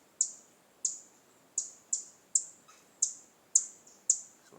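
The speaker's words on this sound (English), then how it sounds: "Me hear one woodpecker, man." A woodpecker in Jamaican bush gives a series of eight sharp, high chirping calls at a steady rhythm about half a second apart, clear and moderately near against quiet background.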